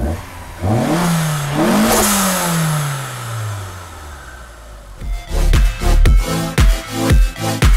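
A turbocharged car engine fitted with clear intake piping revs up and falls back in one long pull with a rising and falling whine. Several quick, loud blips follow in a choppy rhythm.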